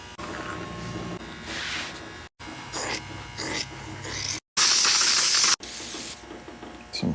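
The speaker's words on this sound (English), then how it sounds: "Some silicone spray." Silicone spray from an aerosol can used while restoring pontoon boat captain's chair upholstery: several short hissing bursts, one longer loud blast near the end, interspersed with workshop noise.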